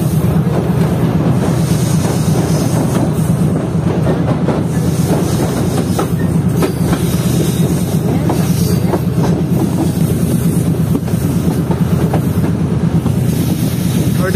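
A Tezgam passenger train in Pakistan rolls along the rails with a steady, loud rumble and a rhythmic clickety-clack of wheels throughout, with no talking.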